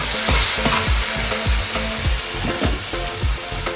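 Peas are tipped into onions frying in a pot for Haitian black mushroom rice and stirred, giving close, steady sizzling with rhythmic scraping strokes of a spoon about twice a second.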